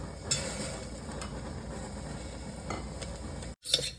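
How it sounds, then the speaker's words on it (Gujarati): Rice grains stirred and sautéed in melted ghee in a pan for kheer, giving a steady scraping, stirring rustle with a light sizzle and brief clinks, close and continuous before a short pause near the end. "ઘી મેલ્ટ થાય પછી આપણે આ ચોખા થોડા આપણે ઘીમાં 1-2 મિનિટ આપણે સાંતળી દઈશું"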